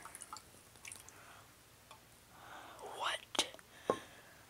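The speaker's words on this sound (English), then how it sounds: "I'm going to dump some of the water." Water poured out of a mug, heard as a few short splashing, dripping bursts near the end, close and fairly faint, with soft breathy sounds around it.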